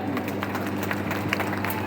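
A crowd claps at an outdoor wrestling dangal, a dense, steady patter of many hands mixed with a low background rumble throughout.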